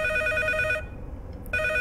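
A telephone rings in the game Geist, a loud electronic ring with a short pause, then ringing again, set against a low ambient hum.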